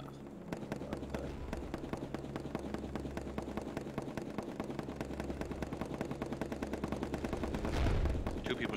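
Rapid video-game gunfire in Pummel Party, a dense stream of quick shots running steadily throughout with music underneath and a heavier burst near the end.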